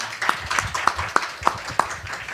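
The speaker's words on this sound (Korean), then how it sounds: "우리 모두 다 박수로 환영해 주시면 감사하겠습니다" At a press conference for foreign journalists, an audience welcomes Pastor Jeon Kwang-hoon with clapping: six sharp, evenly spaced claps in a steady beat, close and moderately loud.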